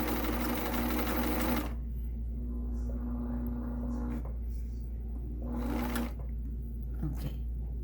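An Elna Supermatic sewing machine runs steadily while stitching a buttonhole, a loud continuous motor hum with buzzing needle action that briefly drops in pitch and resumes, with no talk over it.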